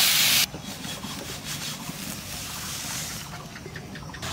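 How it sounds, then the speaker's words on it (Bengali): Green chillies are ground on a grinding stone with a steady rough scraping and rubbing, repeated strokes continuing at moderate volume with no talking. "এই কাঁচা লঙ্কা দিয়েই বাটবো।"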